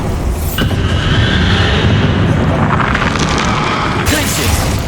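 A Bombarda explosion spell goes off in the Hogwarts Legacy video game, a loud sustained booming burst over dense rumbling battle noise, with a voice calling out spell names over it.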